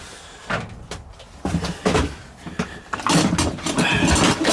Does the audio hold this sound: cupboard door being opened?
yes